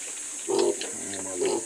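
A pig kept for livelihood on a small backyard farm gives two short grunting squeals about a second apart, moderately close, over a quiet background.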